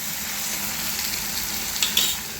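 Tomatoes softening in a pan for a village-style Maharashtrian baingan bharta give off a steady, close frying sizzle, with a couple of brief sharper crackles near the end.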